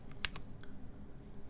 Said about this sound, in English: Let's get this typing test going.